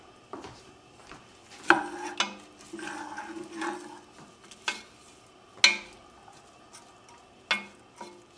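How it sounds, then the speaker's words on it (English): Onions being stirred in oil in a pan with a little tomato juice, a utensil scraping and rubbing in scattered strokes with soft sizzling between, fairly quiet with no talk. "Now go on ahead and give this a good stir. You want to make sure all your onions get coated in oil."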